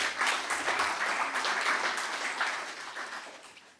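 Conference audience at a nuclear-sector workforce panel applauds with dense, steady clapping that stays loud throughout, then slowly thins near the end; no voices over it.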